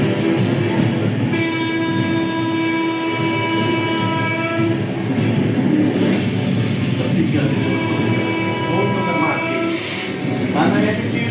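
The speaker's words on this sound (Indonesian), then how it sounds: "Hanya beberapa detik kereta akan lewat." A train passes on a railway track, with sustained loud rumbling and horn-like tones, heavy and close throughout.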